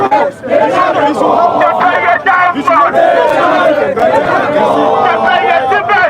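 A large crowd of Ghanaian youth chants and sings a protest song in a local dialect at a solidarity march, many voices loud and close, with shouting and babble running throughout.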